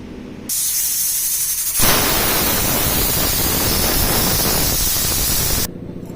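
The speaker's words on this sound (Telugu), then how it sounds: "మూత పెట్టుకొని రెండు మూడు విజిల్స్ వచ్చే వరకు స్టవ్ మీద పెట్టుకోవాలి" Steady loud hiss of steam escaping a pressure cooker on the stove while dal cooks, a continuous spraying rush that swells and holds for several seconds before cutting off abruptly.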